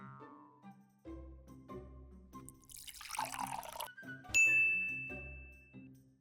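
Water poured from a cup into a mixing bowl while baking gingerbread biscuits, a brief splashing pour with light clinks and a ringing ding from the bowl.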